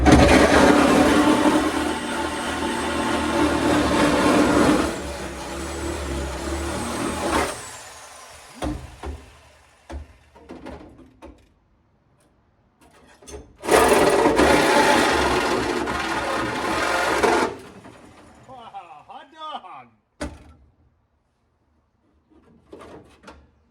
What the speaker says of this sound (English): Hopefully the Sawzall with, I believe this is a wood and nail blade on it.